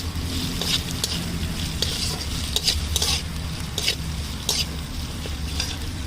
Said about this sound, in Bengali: এটা একটু হালকা আঁচে নাড়বেন যাতে না লাল হয়ে যায়।